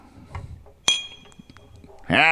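A single bright glass clink rings out sharply, as for a toast with a glass of blue iced tea, followed by soft rustles and a burst of voice at the end.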